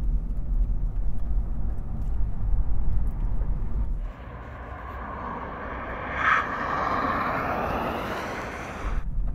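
A Hyundai Ioniq Electric's drive noise rises from a low rumble into a steady, strong broadband whine and roar as it accelerates hard at full power on a go-kart track, with no talking.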